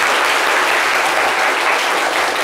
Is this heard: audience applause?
yes